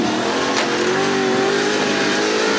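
A Range Rover's big V8 engine revs hard and loud close by, its deep roar rising steadily in pitch, at a 4x4 trials event in Taupo, New Zealand.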